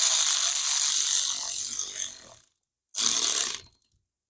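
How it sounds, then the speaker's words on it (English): A hand ratchet runs down Harley engine cylinder head bolts with a loud, rapid clicking that goes on for over two seconds, pauses, then returns as a shorter burst. "Run these things down in here with the ratchet."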